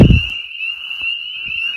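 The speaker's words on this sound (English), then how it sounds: "Hear those frogs?" Frogs calling at night around a rural orchard with fruit trees near a house, a steady high trilling chorus running throughout with a brief low thump at the start.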